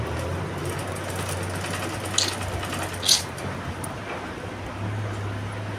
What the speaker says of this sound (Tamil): இப்போ அப்படியே வச்சு ஒரு தையல் பொறுமையாக தைங்க